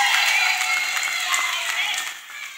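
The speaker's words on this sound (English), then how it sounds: "Let us clap for Master Jesus." Steady, lively clapping from a church congregation, close and continuous throughout, thinning slightly toward the end.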